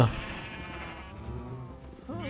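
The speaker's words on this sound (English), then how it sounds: "I found these 2 sheep over there in the little swampy area" Sheep bleat in Minecraft, a few wavering calls at moderate level over soft music, one starting near the end.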